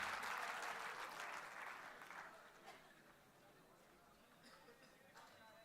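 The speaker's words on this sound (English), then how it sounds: "Please join me in giving a resounding round of applause to our esteemed guest, Mr. Manu Kumar." Audience applause at a university event in Pune welcomes a guest speaker, a dense wash of clapping that is loud at first, then gradually thins and fades to a low scattered patter.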